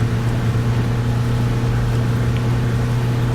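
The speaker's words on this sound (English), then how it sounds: "Poor engine." A bus engine in the Fernbus driving game drones loudly and steadily at low revs, a heavy, laboring hum that holds unbroken throughout.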